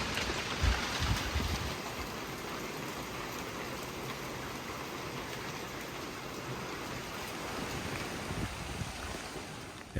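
Steady rain patters on the metal roof of a cabin with a wood stove, a dense, even hiss with scattered drops and a few low knocks, continuous and fairly close, with no speech.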